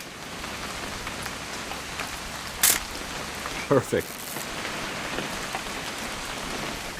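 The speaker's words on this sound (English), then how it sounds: "It's gonna rain the whole weekend," Steady rainfall in the video game What Remains of Edith Finch, a dense even patter running throughout, with a brief clatter and a few short thuds midway and a voice speaking over it.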